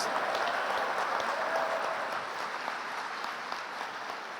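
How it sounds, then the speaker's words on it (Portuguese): Congregation clapping in a church service, a continuous, fairly dense round of applause that stays strong early and eases slightly toward the end without stopping. "Aplauda Ele, dê um grito de glória a Deus."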